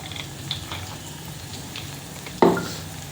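Spices, chillies, onions and tomatoes fry in hot oil in a pan, a soft steady crackle and sizzle with one sharp louder hiss near the end.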